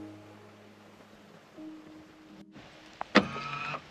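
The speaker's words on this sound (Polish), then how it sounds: "zwróćcie uwagę na dość głośny mechanizm wysuwania klamek" A brief mechanical whir with a soft click, then a louder clunk and buzzing motor sound as a BAIC Beijing KM's electric door handles extend, heard alone against a quiet background hum.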